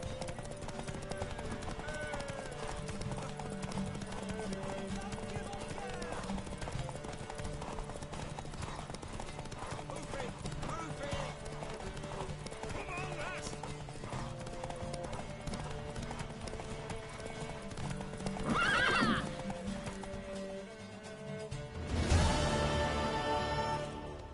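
Hooves clip-clop steadily at a gallop in The Witcher 3 video game over a constant background score, with a brief horse whinny near the end and some voices mixed in.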